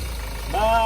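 A 2019 Mahindra Scorpio S5 diesel SUV with manual gearbox, its engine idling with a low rumble and then revving up near the end, the pitch rising and holding loud, close by.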